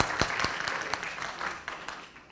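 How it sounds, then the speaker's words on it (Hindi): Applause from the audience at an Urdu mushaira poetry gathering in Lucknow: a burst of many hands clapping, strongest at the start and gradually thinning, with a few sharp individual claps standing out. "एक बार ज़ोरदार तालियां वगैरह बजा दें।"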